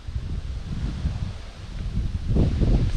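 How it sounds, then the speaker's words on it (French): Cold wind gusting across an open riverside landscape at the confluence of the Allier, a steady broadband rush that swells louder toward the end, close and buffeting the microphone. "Il fait froid, il y a du vent."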